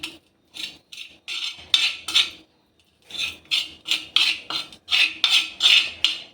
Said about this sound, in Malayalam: ആവശ്യത്തിന് ഒഴിച്ചു കൊടുത്തതിന് ശേഷം നന്നായിട്ട് നമുക്ക് കലക്കി വയ്ക്കാം.